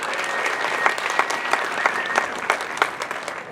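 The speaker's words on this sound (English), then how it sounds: "Give them an applause that they can hear her all the way up there." Theater audience applauding at the Historic Admiral Theater during an intro event, a dense, steady wash of many hands clapping with sharp individual claps popping out, fairly close and full, with no talk over it.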